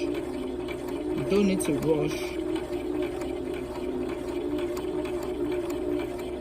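A sewing machine runs a straight line of stitching with the fabric edge guided along the presser foot, giving a steady, moderately loud mechanical hum that continues throughout while a voice briefly speaks over it.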